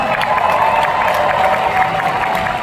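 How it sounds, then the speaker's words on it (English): A comic con crowd keeps up steady applause and cheering for a cosplayer, loud and continuous with scattered shouts over the clapping. "One more big round of applause for her."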